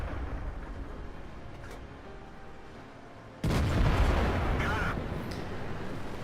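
A tank gun fires in the World of Tanks video game, one loud, heavy boom that cuts in abruptly and rolls on as sustained rumbling noise.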